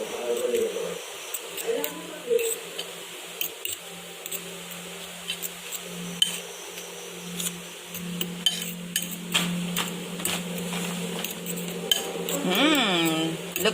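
Apple pancake batter with cinnamon being mixed in a bowl, a spoon clinking and scraping against the sides in a steady run of small taps, with a voice talking over the stirring.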